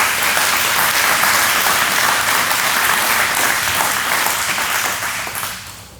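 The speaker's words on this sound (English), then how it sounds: "Let's give them a round of applause too" Audience applause fills a college agriculture and transportation complex dedication ceremony, dense steady clapping from a large crowd that holds strong for about five seconds and then tapers off.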